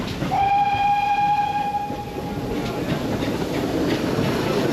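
An HST and a DMU climb out of Cleveland Carrig station on the Gwili heritage railway during a gala, with a long sustained horn blast over a steady loud rumble of moving train.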